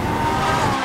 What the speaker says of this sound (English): all that noise and fury is coming from three exhaust pipes